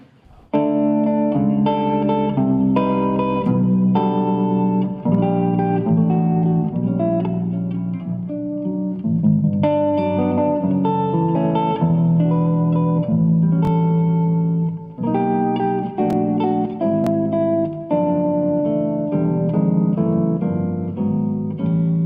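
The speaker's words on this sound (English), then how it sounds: "So what I like to do is like take a melody and change the harmony." Jazz melody played over reharmonized chords, a steady sustained instrumental line with rich harmonic layers and a few brief pauses, continuous and fairly loud throughout.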